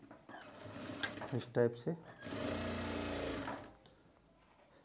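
A sewing machine stitches a shirt collar in one short steady whir of about a second and a half, preceded by clicks and handling sounds, with a voice speaking briefly.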